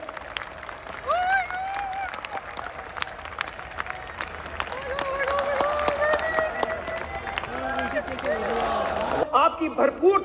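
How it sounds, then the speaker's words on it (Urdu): An audience at a Dr Zakir Naik lecture in Karachi, Pakistan, applauds to welcome him, a dense, steady wash of clapping and crowd noise with voices mixed in, lasting about nine seconds before cutting off. "آپ کی بھرپور تالیوں میں اپنی سیٹ سے اٹھ کر ڈاکٹر ذاکر نائک صاحب کا استقبال کیجیے."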